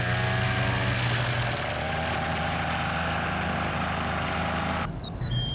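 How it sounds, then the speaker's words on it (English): A small propeller aircraft's piston engine runs at a steady idle with a close, loud, droning hum, shifting in pitch as throttle is added, and no one speaks. "Now take a look how I have to add throttle to start the engine."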